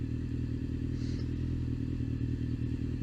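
Idling 2006 Honda CBR600F 600cc sport bike with a deep, bassy exhaust note, a steady low rumble that stays close and loud throughout, with a little mechanical clatter over it and no voices.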